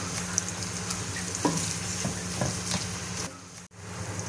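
Onions sizzle and crackle steadily in hot oil in a wok, frying for white chickpeas, with occasional stirring scrapes, close and fairly loud.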